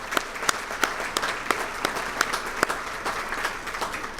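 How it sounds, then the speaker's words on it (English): An audience at a fire department awards banquet in Columbus breaks into steady applause, a dense, even wash of clapping from many hands held at a constant level for the whole stretch, with no voices rising above it. "he certainly deserves our applause"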